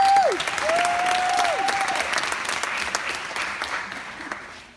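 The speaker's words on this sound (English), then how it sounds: "Give yourself a big round of applause" Parents at a summer Saturday education program applaud, a dense steady wash of clapping from a sizable crowd that holds for several seconds and slowly thins out.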